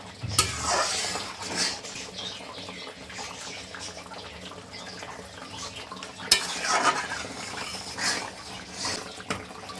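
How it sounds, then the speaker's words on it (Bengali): Paneer korma masala sizzles in a pan while a spoon stirs and scrapes it, with soft frying hiss and intermittent metallic clinks close by. "ভালো করে কষিয়ে নিচ্ছি।"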